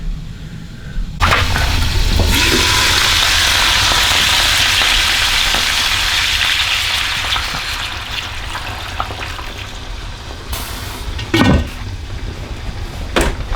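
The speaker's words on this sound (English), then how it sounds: "Sizzling real good." Food sizzles and hisses steadily in a hot pan, a continuous crackling fry, with a couple of brief clatters near the end.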